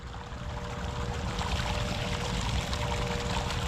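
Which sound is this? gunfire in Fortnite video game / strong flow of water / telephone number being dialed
strong flow of water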